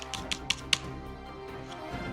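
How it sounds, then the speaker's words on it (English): Scissors cut out a traced Pokémon card, giving a few quick snips that grow sharper, then softer fainter cuts, close up over a low background hum with no speech. "now, you need to take your scissors"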